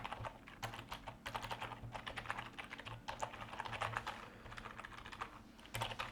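Computer keyboard typing as code for a trading bot function is written, rapid irregular key clicks in bursts with short pauses, close and fairly quiet, no voices.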